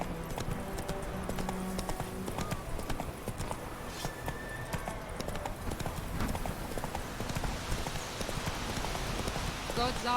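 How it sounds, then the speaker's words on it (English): A horse gallops in The Witcher 3, steady rapid hoofbeats pounding throughout over rain-like ambient noise, with a brief spoken line in the game. "Run, Roach."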